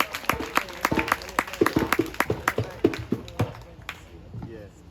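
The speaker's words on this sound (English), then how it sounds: "can we have a big round of applause for her, please?" Audience applause for Professor Verene Shepherd at a talk: scattered, uneven claps rising and fading over several seconds, with a voice briefly audible over them.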